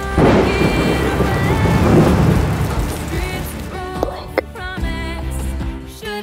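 Heavy rain and a loud rumble of thunder in a movie trailer, the downpour roaring at first before fading under swelling musical tones and sharp hits.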